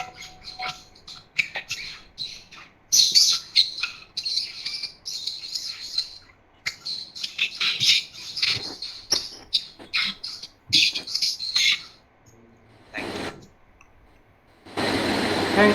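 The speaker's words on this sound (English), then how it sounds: "chirping of birds." Birds chirp in quick, bright bursts with insect-like trills mixed in, a busy, fairly close chorus that stops briefly near the end before a final loud burst.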